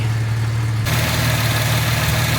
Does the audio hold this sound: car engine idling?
yes